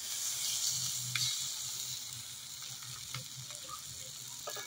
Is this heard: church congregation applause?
no